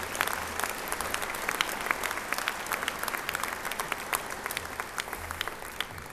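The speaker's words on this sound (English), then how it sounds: "Please, another round of applause for Erika Gonzalez." A crowd at a university summer commencement ceremony applauds continuously, a sustained patter of many hands clapping at moderate loudness throughout, with no speech over it.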